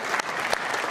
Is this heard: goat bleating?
no